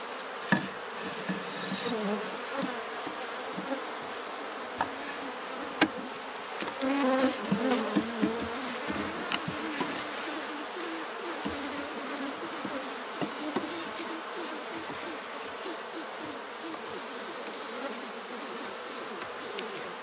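Honey bees swarm around an open hive while frames are being inspected, producing a dense, continuous buzzing that stays close and steady for the whole stretch, with a few faint knocks of equipment and no talking.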